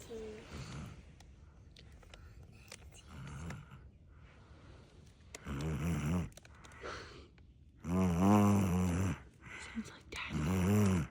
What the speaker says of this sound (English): He's sleeping and snoring.